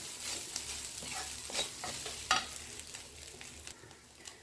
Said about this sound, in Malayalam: ചിക്കൻ ഇട്ട് കൊടുത്ത് നല്ലപോലെ ഒന്ന് ഇളക്കി യോജിപ്പിച്ചെടുക്കണം